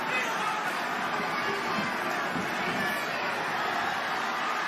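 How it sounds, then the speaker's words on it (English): Boxing arena crowd roars and cheers for Vergil Ortiz Jr. during his fight with Hooker, a dense, sustained wash of voices filling the hall, loud and steady throughout. "The crowd rallying behind Ortiz Jr."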